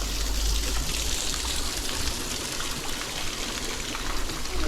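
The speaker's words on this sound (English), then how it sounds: "Just a quiet little river." A quiet little river flows nearby with a steady, soft rushing and trickling wash that stays even for the whole stretch, with no voices over it.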